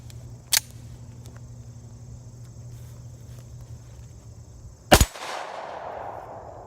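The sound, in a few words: Rock Island 1911 10mm pistol gunshots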